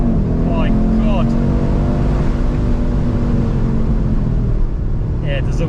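A tuned Stage 2 VW Mk8 Golf R launching hard and accelerating, loud close engine roar rising steadily in pitch with brief gear-change breaks, while someone speaks over it.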